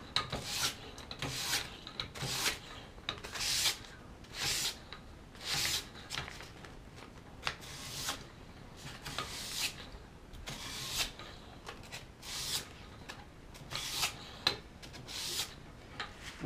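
A knife blade is drawn repeatedly across sandpaper to sharpen its edge, producing a steady rhythm of about sixteen close, crisp rasping strokes, each a short scratchy swipe with brief pauses between.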